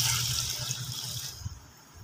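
A cup of water pours into a saucepan holding mung beans, a steady close splashing gush that stops partway through, leaving quieter dripping and room noise.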